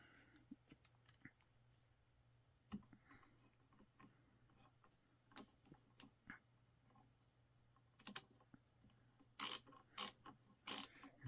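A Milwaukee ratcheting screwdriver drives a screw with sparse, quiet pawl clicks and small turning sounds, ending in a few louder, sharper ratchet bursts close by.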